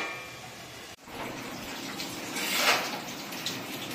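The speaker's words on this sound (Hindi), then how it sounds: "तो हम पानी डाल रहे हैं" Water pouring steadily into a cooking pot for dal in a home kitchen, a continuous splashing gush that starts after a brief pause and swells slightly midway, heard alone without talk.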